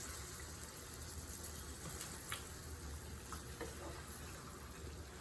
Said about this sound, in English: You want to keep stirring it